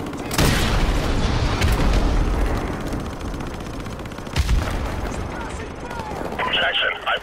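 A C4 charge clamped on an enemy gun in Call of Duty: Modern Warfare Remastered detonates with loud booming blasts amid ongoing battlefield gunfire, with a second heavy boom midway.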